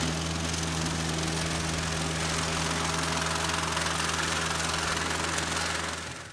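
A subcompact tractor with a sickle bar mower attached runs steadily up close, its engine droning with a constant low hum and rattling vibration while it moves slowly over rough ground, then fades slightly at the end.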